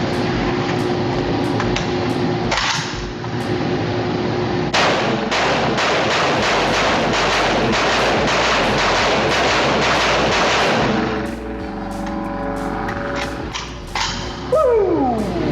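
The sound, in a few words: CLAW combat light assault weapon being fired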